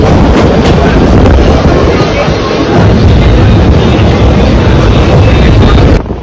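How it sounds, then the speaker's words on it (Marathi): A Bandra Vapi Express train pulling out of Vaitarna station after a short halt, its steady loud rumble and rolling wheel noise filling the whole stretch before dropping away at the very end. "वैतरणा स्टेशनला 2 ते 3 मिनिटं थांबून ट्रेन आता निघाली आहे इथून"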